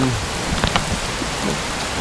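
Steady rain hisses across the whole clip at a stormy campsite, with a few light patters of drops and a faint low rumble underneath.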